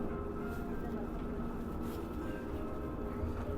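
A continuous low, droning rumble of a train moving through a mountain tunnel toward Jungfraujoch in Switzerland, steady and unbroken throughout.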